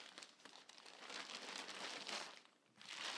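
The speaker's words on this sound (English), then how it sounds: "we're basically going to take a nice, big, thick-milled plastic bag" A big, brand-new thick plastic bag crinkles and rustles steadily as it is handled up close, quiet but continuous with no talking, while it is readied for a bent wood floating frame painting.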